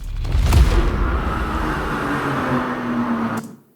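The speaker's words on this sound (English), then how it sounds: "We can add the exhaust back in if you want to listen to that." A deep, rumbling BMW M3 exhaust roar on a track day, with a low boom at the start, holding steady and loud before cutting off abruptly.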